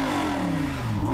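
A Lamborghini Huracan engine revving in sport mode, a loud close throaty roar whose pitch sweeps downward across the short burst, with exhaust rumble underneath and no talk.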